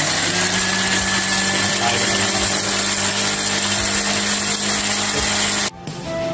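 An electric blender grinds spice paste with garlic powder and salt, a loud, steady motor whir that runs continuously and then cuts off abruptly near the end.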